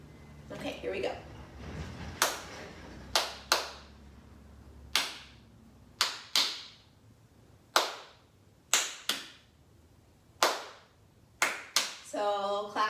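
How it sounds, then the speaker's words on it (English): Hands clapping a rhythm pattern for a second-grade movement lesson, sharp close claps in an uneven repeating pattern spaced about a second apart, with a voice speaking near the start and end. "We'll start clapping a pattern."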